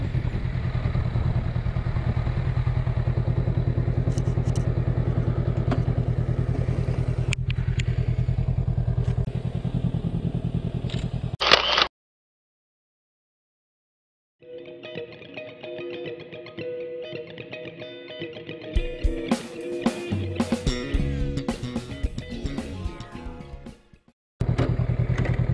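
A Honda Rebel 500 (CMX500A) motorcycle rides in hot summer weather near Jeodo island's bridge in Gyeongsang province, its engine droning steadily with wind rush, then cutting out to silence before a clattering, revving stretch returns.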